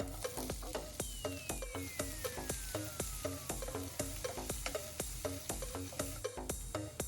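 Onion frying in a pan with fennel seeds and crushed ginger, a steady loud sizzle broken by regular scraping stirs of a spoon against the pan, with no voices.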